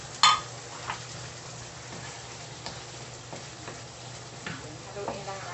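Carrots are stirred into a pan of frying ground-beef picadillo: a faint, steady sizzle runs underneath, broken by a sharp utensil clack at the start and a few scattered scrapes and taps against the pan.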